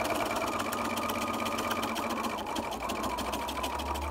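A sewing machine stitching a fabric face mask, running steadily in a fast, even rhythm of rapid needle strokes, close and moderately loud, with no talking over it.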